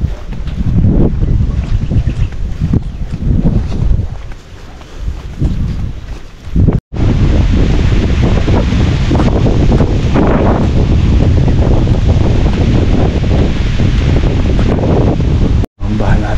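Strong typhoon wind from Typhoon Pepito roars loudly and continuously against the microphone, gusting and buffeting with a heavy rushing sound and two brief dropouts.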